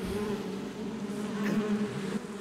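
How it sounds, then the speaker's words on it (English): A swarm of hornets in the video game Metal Gear Solid 3: Snake Eater gives off a dense, steady buzzing drone that stays close and loud throughout, with no talking. "Hornets. My bad, hornets."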